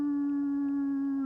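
A voice imitates a deep, loud wolf howl, holding one steady low, sustained tone with faint harmonics throughout, close and unbroken.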